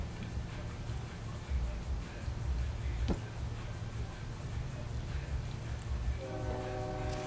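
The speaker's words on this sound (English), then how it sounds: "if you hear the train, it's a train on the tracks." A train horn sounds from a distance near the end, over a steady low rumble of rail traffic and background noise.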